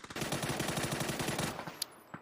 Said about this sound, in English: Shots will begin to unfold. First contact made.